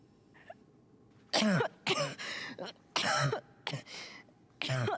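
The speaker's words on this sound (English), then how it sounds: "Are we gonna give her the water when she starts coughing?" A character in Life is Strange: True Colors coughs in several harsh, raspy bursts with throat clearing, close and loud, separated by short pauses.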